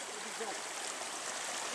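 A mountain stream feeding the Khulkhulau river rushes steadily over rocks, a dense continuous splashing roar that stays close and even from start to finish, with faint talk under it.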